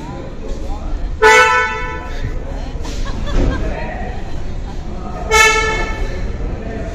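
A car horn honks in short sharp toots, twice loud and close with a fainter one between, over people talking and general outdoor noise while booking a new car.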